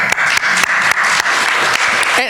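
Audience applause at a faith and equity conference session, loud dense clapping that continues steadily with a few sharper claps standing out, and a voice briefly audible near the end.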